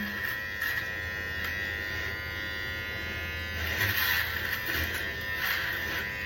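Electric shaver buzzing steadily at close range as it runs over a man's head and face, a continuous motor hum with slight pitch wavering for about six seconds, no talking over it.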